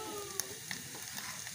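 Cumin seeds sizzle in hot oil for a tadka on a home stove, a steady close crackling hiss with small pops and a faint clink of a utensil, no talking.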